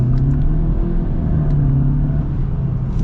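A 2023 Audi A3 accelerating, heard from inside as a steady, loud low engine drone with a rising hum and road rumble throughout.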